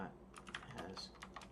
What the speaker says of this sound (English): remove this typing, like it's not necessary